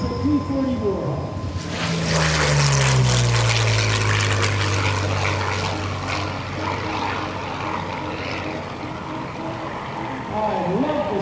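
A P-40 Warhawk with a V12 engine roars past at an airshow, rising from a distant drone to a loud propeller growl whose pitch falls as it passes, then fades into a lingering rumble.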